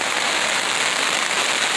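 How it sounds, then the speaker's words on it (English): Steady rain falling on a tent at a camp, a dense continuous patter close by with no voices. "wanted to bring us a little rain."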